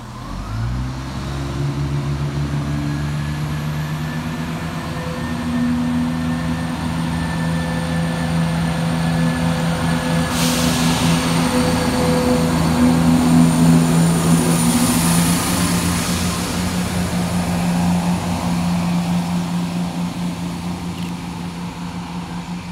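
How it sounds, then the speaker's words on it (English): East Midlands Railway train 17535, on a Nottingham to Matlock service, departs Belper station with a droning engine note that swells and strengthens over about twenty seconds, then eases slightly as it pulls away. "we see the departure of 17535 working the 1146 East Midlands Railway service from Nottingham through to Matlock"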